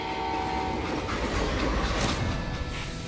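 A freight train rolls along in the Western video game Call of Juarez, a dense, loud rumble of wheels and rattling cars with a sustained horn-like tone, constant throughout and with no talk.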